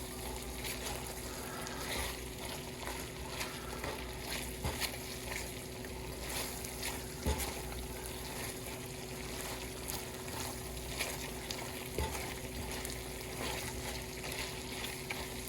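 Chicken wings frying in a butter and garlic sauce, a steady close sizzle and bubbling that runs throughout with faint scraping and clinks, no voices.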